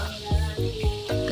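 Ginataang tulingan, a dish of tuna cooked in coconut milk, sizzling in a pan: a steady close hiss with soft rhythmic bubbling pulses, no talking.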